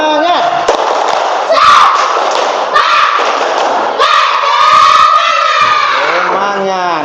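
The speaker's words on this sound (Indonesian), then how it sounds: "Tepuk semangat." Third-grade elementary school pupils in a classroom doing a rhythmic spirit clap: loud, close claps and thumps mixed with chanted group shouts from many children.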